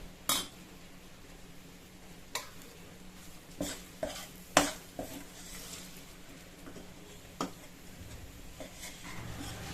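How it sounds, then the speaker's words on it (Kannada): A spoon stirs and roasts besan (gram flour) in a pan for besan laddu. Sparse, faint metallic scrapes and taps come at uneven intervals over a quiet background, and no one talks. "ಎಲ್ಲ ಕಡೆ ಚಮಚದಿಂದ ಕೈ ಆಡಿಸ್ಕೊಂಡ್ಬಿಡಿ, ಇಲ್ಲಾಂದ್ರೆ ಏನಾಗುತ್ತೆ, ತಳ ಹತ್ತು ಬಿಡುತ್ತೆ"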